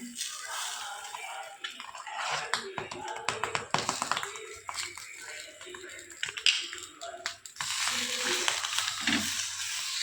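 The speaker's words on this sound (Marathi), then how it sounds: "आता बटर टाकून छान आपल्याला रोल आता ह्या भाजून घ्यायचा आहे" An egg roll roasts in butter on a pan with an uneven sizzle, light taps and scrapes of a utensil, under intermittent talking.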